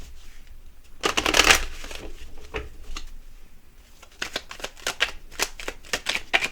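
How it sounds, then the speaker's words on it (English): Cards riffle-shuffled in several quick bursts, a long loud ruffle followed by shorter crisp flicks and snaps, close up with no talking. "So let's shuffle again."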